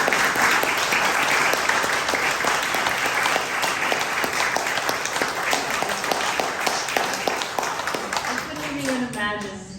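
Sustained applause from an audience at a poetry and essay anthology launch event, dense steady clapping throughout with a voice briefly rising at the very end.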